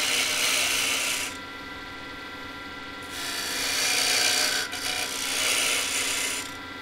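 A woodturning gouge cuts a wooden candle holder spinning on a lathe, giving a loud, close, continuous rasping hiss that swells and fades as the tool shifts across the wood in long passes.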